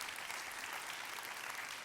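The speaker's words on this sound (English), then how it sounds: "A well-deserved round of applause." Steady, dense applause from an audience at a talk, a continuous even patter of many hands held at moderate level for about two seconds, with no voices on top.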